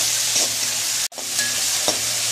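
Onions and tomatoes sautéing in a pan for paruppu urundai kuzhambu: steady frying sizzle with scraping stir strokes, close and loud, with one brief drop to near silence midway.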